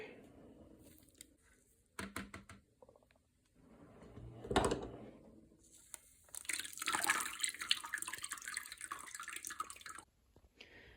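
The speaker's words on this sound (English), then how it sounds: "I'm gonna go ahead and dump it back into the colander" Strained tomato juice is dumped from a pot back into a colander during tomato canning, heard as bursts of splashing and dripping liquid with clatter, loudest in a long pour toward the end, close and without talk.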